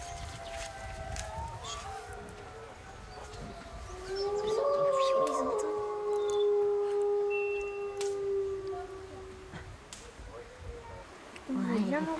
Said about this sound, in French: Écoute les loups.